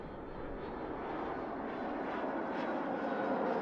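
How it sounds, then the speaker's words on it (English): In the Mini Airways air-traffic game, an airplane takes off with a steady, broad engine roar that swells slightly as it climbs. The roar is continuous and fairly loud, with no speech over it. "Cleared for takeoff."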